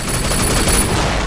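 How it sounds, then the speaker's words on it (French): A bomb blast in the video game Sleeping Dogs, a dense, loud, sustained roar of explosive noise filling the whole moment with no gap. "Quelle explosion de malade! Ça fait un gros boom"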